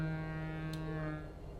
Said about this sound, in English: You've got your horn, which sounds like this